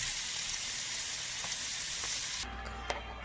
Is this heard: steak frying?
yes